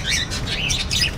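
Small birds kept in a park chirp in quick, bright bursts, several overlapping tweets close by over a soft outdoor background.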